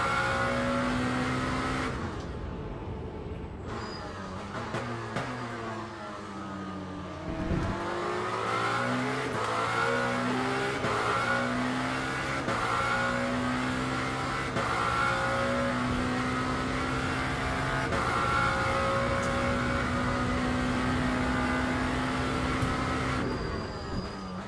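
GTE race cars from the sim racing game Le Mans Ultimate, racing through traffic at Bahrain, with steady loud engine drone, shifting revs and gear changes over about twenty seconds, and cars passing close by.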